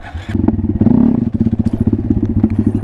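Honda Grom motorcycle engine revving hard during a wheelie attempt, a loud close putter that swells into a strong rising rev, then settles into a steady rapid pulsing idle-like chug.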